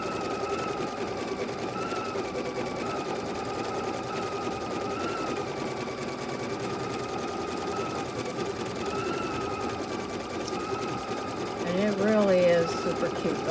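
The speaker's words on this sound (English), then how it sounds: "Alrighty, so now we're just quilting." Sewing machine quilting an orange peel design, running in a steady fast rhythmic stitch throughout, with a brief burst of louder clatter near the end.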